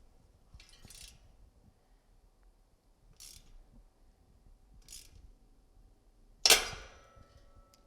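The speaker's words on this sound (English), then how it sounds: "that actually cammed out the Wera before we got to click" A Wera Torx bit turns against a rotor bolt under a torque wrench, with three soft scraping ratchet-like clicks spaced apart, then one sharp, loud snap as the bit cams out, close and without talk.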